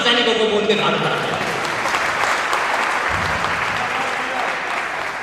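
Dense, loud applause from an audience fills the clip, a steady wash of clapping that fades slightly toward the end, with a voice speaking over it.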